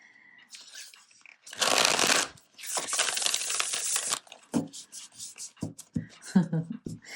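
Tarot cards are shuffled in two dense riffling bursts of papery whirring, each a second or two long. Lighter taps and slaps of the cards being squared and handled follow.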